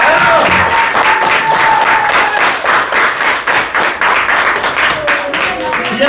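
A church congregation claps and applauds together, a dense, steady wash of many hands that carries on for several seconds, with faint cheering and voices mixed in.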